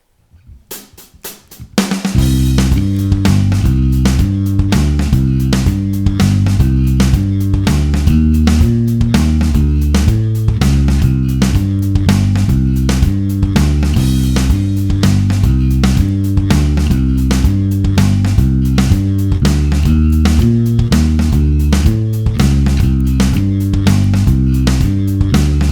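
An electric bass plays a fast, driving riff in 11/16 time in a progressive metal style, with loud, punchy repeated notes in an uneven looping rhythm after a short quiet lead-in, heard alone without talk.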